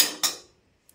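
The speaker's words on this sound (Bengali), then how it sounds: "এখানে দিয়ে দেব একটা ডিম ফাটিয়ে।" An egg cracked into a bowl of salt, black cumin and chopped onion: two quick sharp cracks close together, with a faint tick following.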